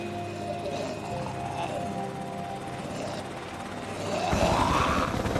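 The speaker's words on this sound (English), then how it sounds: "that's the helicopter gone as well then." Helicopter from the TV show Fear the Walking Dead, a steady loud rotor drone with a throbbing hum that swells toward the end, no talk over it.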